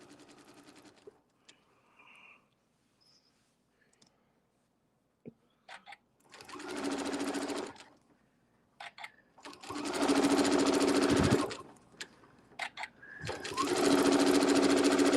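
A sewing machine stitches circles in three loud whirring runs of a couple of seconds each, separated by quiet gaps with small clicks and handling noises, close-up.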